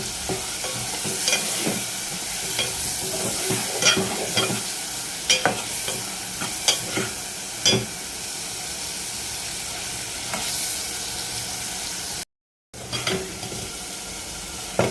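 A spoon stirs and scrapes through tomatoes with salt and tamarind sizzling steadily in a pan, with repeated clacks against the metal and a brief dropout near the end.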